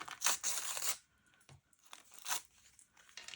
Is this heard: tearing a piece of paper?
yes